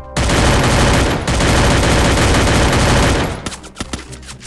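Dense, rapid gunfire from the video game Free Fire rattles loudly and continuously for about three seconds, then breaks into a few scattered shots.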